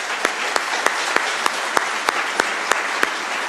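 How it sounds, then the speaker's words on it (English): Applause from a conference audience at BSides Nashville 2017 honoring Jack Daniel, a dense wash of clapping punctuated by a few sharper, regularly spaced claps standing out nearby. "would you please give a round of applause to Jack Daniel?"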